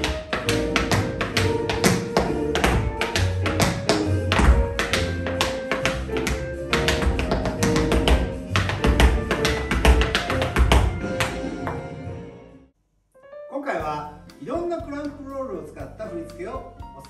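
Tap shoes beat clamp roll steps on a floor in fast, dense runs of crisp, close taps for about twelve seconds. After a brief silence, a voice speaks over a few lighter taps.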